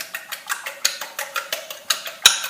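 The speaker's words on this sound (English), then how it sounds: "We're going to take our eggs, beat them up really quickly. Just give them a quick whisk." Eggs whisked quickly in a bowl for banana nut muffins, a rapid run of light, evenly spaced clicking taps of the whisk against the bowl, close and steady without talk.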